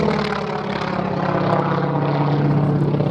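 A General Motors FM2 Wildcat propeller fighter flies at an air show, its engine a steady, fairly loud drone with a low rumble that holds throughout without pause.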